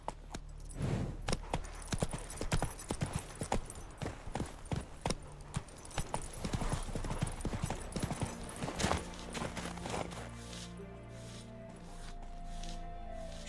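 Roach the horse from The Witcher 3 galloping, rapid rhythmic hoofbeats with jangling tack, close and steady, slowing and fading into a quiet musical tail.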